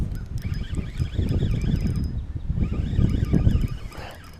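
Gusty wind buffets the microphone outdoors on a kayak during a fishing tournament, a low rumbling roar that swells and eases in uneven waves, with a faint high tone running beneath it.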